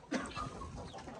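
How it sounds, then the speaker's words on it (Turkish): Turkish native village chickens clucking in a short, busy burst, several birds close by with overlapping calls and no talking. "Türkiye'nin doğal köy tavukları orijinal."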